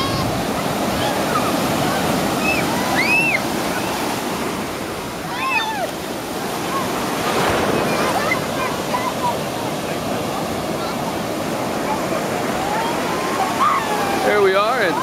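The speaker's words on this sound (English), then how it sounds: "Here we are at the ocean at Ocean City, Maryland, 2012." Ocean surf at Ocean City, Maryland, a loud steady wash of breaking waves filling the whole stretch, with children's high voices and people talking over the roar.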